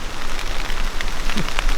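Steady rain patters on tarps and gear at an elk hunting camp, a dense, close hiss of drops with a few louder individual hits and no talk.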